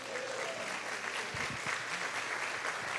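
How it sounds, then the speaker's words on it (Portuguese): Audience applause at a congress talk, a steady, fairly faint wash of clapping heard from within the crowd, with a few murmuring voices underneath. "Uma salva de palmas para aqui."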